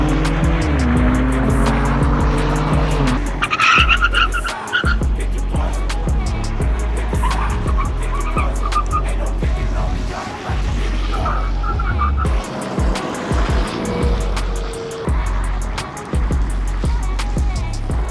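BMW Alpina B3, M3, 340i and M340d launch in a drag race, loud engines roaring and revving through gear changes with brief tyre noise, sustained and close throughout without speech.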